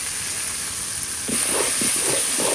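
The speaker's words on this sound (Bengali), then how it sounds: "মাছ এক ভাজা দেওয়ার সময় যে তেল পড়ছিল সেই তেল এখন দিয়ে দিব।" Leftover oil from frying fish poured onto a paste of garlic, cumin, turmeric, chili and salt, a steady hiss that swells into a louder crackling sizzle partway through.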